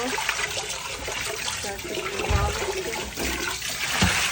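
Water sloshes and pours steadily out of a pot after boiling meat for broth, a continuous rushing stream with a few heavier splashes, close and fairly loud with no talking.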